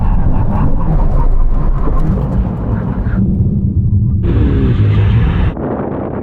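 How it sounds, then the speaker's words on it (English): A supercar brakes hard to a full emergency stop from 100 mph, loud and close, with rushing wind and roar that shift abruptly partway through and then settle into a steady whir. "We're going to do a full emergency stop."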